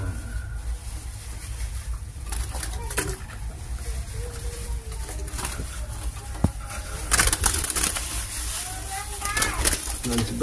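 A zebra dove (perkutut) coos in soft repeated notes among other caged songbirds outdoors, mixed with chirps, bumps and background chatter.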